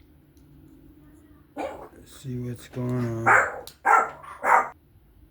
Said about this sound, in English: My dog likes to bark like crazy.